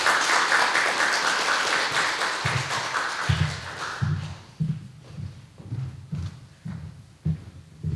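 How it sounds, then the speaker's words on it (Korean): A church congregation applauds for a missionary being introduced: a dense wash of clapping fills the first few seconds, then fades into scattered low thumps and taps. "박수 한번 하겠습니다"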